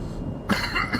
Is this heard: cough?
yes